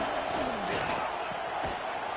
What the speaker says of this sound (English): This crowd going to try to make life miserable for these guys.